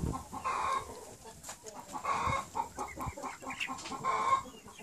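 Chickens clucking close by, with three distinct bursts of clucks spaced about two seconds apart over softer background fowl noise.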